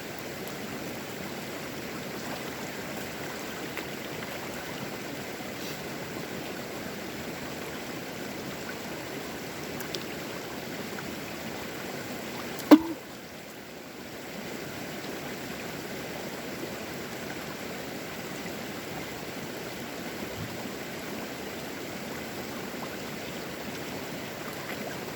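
Continuous, faint rush of a wilderness stream flowing below as a bottle is lowered to fill, with one brief knock midway and no talk.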